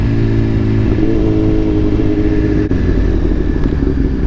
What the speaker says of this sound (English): I just wanted to just take y'all on a ride with this Gixxer, getting this tuning in